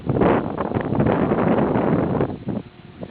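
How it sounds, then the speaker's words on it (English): Strong wind buffets the microphone at a lake boat dock in a park, a loud continuous rumbling roar with gusts that ease slightly toward the end. "All the weather now is windy, and I'm standing on the boat dock"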